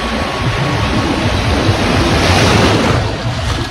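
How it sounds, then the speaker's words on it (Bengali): Surf rolling onto Digha beach in the sea, a steady, loud roar of breaking waves with wind buffeting throughout, no voices. "এইদিকে দেখো ঢেউগুলো দেখো আসছে কিরকম"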